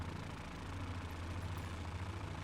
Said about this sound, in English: You do tend to get that flap, flap, flap, flap, flapping sound from a lot of these smaller capacity, old school air-cooled radials.